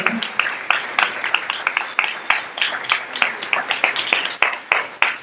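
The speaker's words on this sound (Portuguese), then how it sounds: "Então, salva de palmas, né?" An audience at a lecture applauds, steady clapping with sharper individual claps popping through, loud and sustained throughout.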